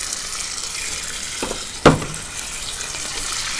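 Squid eggs stir-fried with holy basil in a pan give a steady sizzle and hiss, broken by one sharp clatter near the middle, with no voices.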